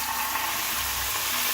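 Balsamic vinegar sizzles in a hot pan with chicken, giving a steady, loud, dense hiss that runs unbroken from start to finish with no voices.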